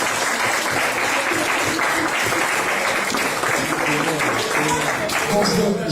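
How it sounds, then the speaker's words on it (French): Audience applause at a France Insoumise republican banquet in Wattignies, a dense steady wash of clapping filling the room for several seconds, with voices mixed into the crowd noise. "Alors, un tonnerre d'applaudissements pour eux."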